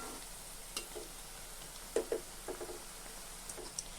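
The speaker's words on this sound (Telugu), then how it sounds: "నూనె కాగుంటుంది కాబట్టి తిప్పుకోవాలి మాడిపోకుండా." Malabar spinach pakoda fry in hot oil while being stirred, a faint soft sizzle broken by sparse light scrapes and clicks of the spoon at irregular moments.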